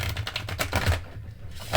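Tarot cards being given a long, vigorous shuffle, a dense run of close crisp riffling and snapping clicks that thins out briefly near the end before picking up again.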